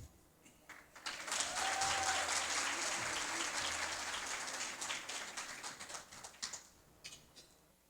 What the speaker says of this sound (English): Please give a warm round of applause to Damara Assyrian Dance Group.